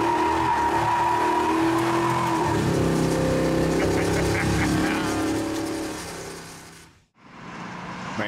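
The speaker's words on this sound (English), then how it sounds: "All right, hang on now. I'm gonna do a burnout." Custom classic Chevy C10 muscle truck performing a burnout: a loud, revving engine over squealing, skidding tires that builds for several seconds, then drops to a brief lull before the noise returns.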